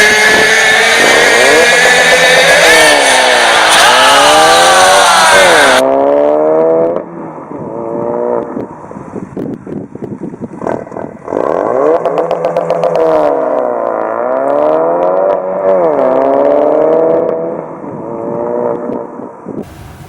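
A Ford Focus RS engine revs hard on launch control, a loud, rasping roar that climbs and falls in repeated surges, held high for several seconds before dropping back and rising again.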